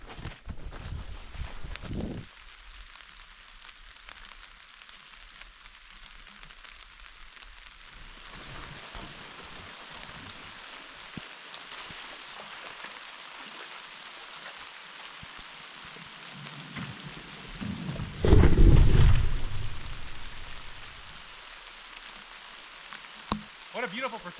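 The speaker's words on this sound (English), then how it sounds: "Here comes the rain." Rain falling on a canoe portage trail along the Churchill River, a steady hiss of drops throughout with a louder rumble swelling near the end, no voices.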